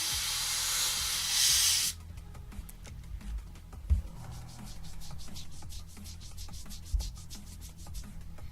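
An airbrush spraying camouflage paint onto a 1/35 scale Fennek military vehicle model gives a loud, steady close hiss for about two seconds, followed by quieter intermittent hissing and light handling clicks.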